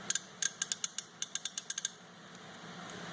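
A Steelman Pro 72-tooth ratchet clicks in three quick bursts of fine, crisp ticks close by, then falls quiet with a low background hum.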